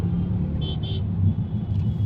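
A car driving at about 40 km/h in the first lane of a crowded road gives a steady, close, low engine and road rumble, with a pair of brief high beeps early on.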